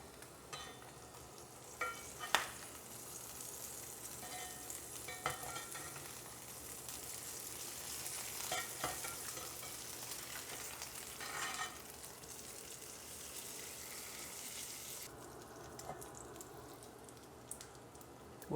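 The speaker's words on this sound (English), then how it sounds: "We have some bacon sizzling now." Bacon strips sizzle steadily in a hot pan of rendered fat, a continuous crackling hiss with occasional sharper pops and light clinks of small tongs, close and even throughout.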